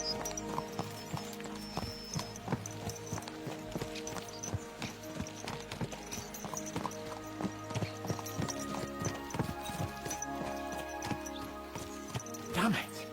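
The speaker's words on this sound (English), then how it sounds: "Let's really spur these horses on, eh?" Horses' hooves clip-clop steadily and close in Kingdom Come Deliverance 2, a medieval riding scene with the beat of several horses trotting along under a music score, and a horse whinnies briefly near the end.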